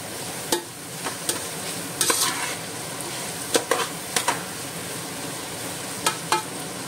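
Prawns and vegetables stir-fried in a pan for Goan-style chowmein: a steady low sizzle broken by scattered scrapes and clinks of the utensil against the pan, close by and with no voices.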